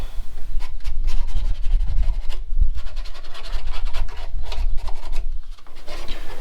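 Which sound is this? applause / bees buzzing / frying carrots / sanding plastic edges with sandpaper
sanding plastic edges with sandpaper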